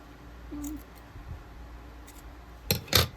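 A couple of sharp snips of scissors near the end, close and crisp, after a mostly quiet stretch with faint handling sounds.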